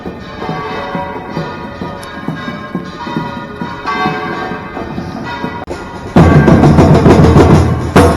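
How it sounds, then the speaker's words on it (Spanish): Church bells ring out along a port avenue in Valencia during the city marathon, loud and close with rhythmic repeated strokes, then a sudden surge of dense crowd and race noise takes over. "Tocando las campanas de la iglesia de la avenida del puerto."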